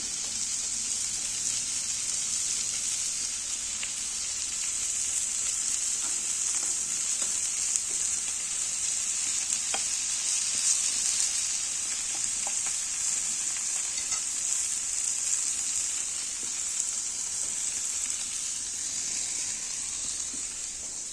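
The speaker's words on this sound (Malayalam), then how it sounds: "നമുക്കത് പൊരിച്ചെടുക്കാം" Steady, even sizzling of fish frying in hot oil, a continuous bright hiss with occasional faint pops, no voices.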